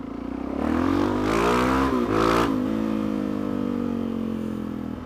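A motorcycle with an aftermarket exhaust revs sharply once, close and loud, its engine note climbing and then dropping back to a steady, rumbling idle that fades slightly toward the end.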